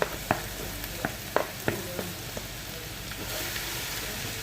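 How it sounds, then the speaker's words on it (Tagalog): Ginger frying in a pan for Ilocano-style arroz caldo, a soft steady sizzle broken by several sharp scraping clicks of a spoon stirring it near the start, then a smoother continuous fry. "Haluin lang natin siya guys para maging golden brown din siya"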